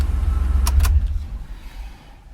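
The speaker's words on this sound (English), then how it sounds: "And I'll shut off the engine." A 2004 Mitsubishi Pajero GDI engine shuts off, its loud low idle rumble cutting out and trailing into quiet after a couple of brief clicks.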